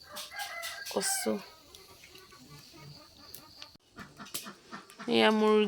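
Domestic chickens cluck and a rooster crows, with short bursts of calls near and far amid a dog's panting and brief voices nearby.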